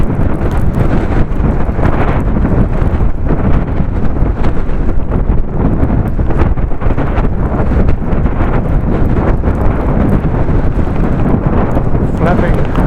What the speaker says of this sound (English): Flapping around in the wind.